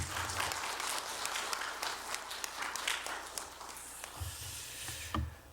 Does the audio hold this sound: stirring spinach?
no